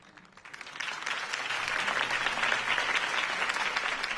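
Video game crowd applause, starting light and swelling into sustained, steady clapping that fills the space.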